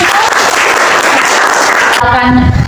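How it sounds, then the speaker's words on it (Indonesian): Pupils clapping in a classroom on a teacher's prompt, a loud close burst of many hands that stops abruptly, followed by a brief tonal sound and room noise. "Oke, tepuk tangan."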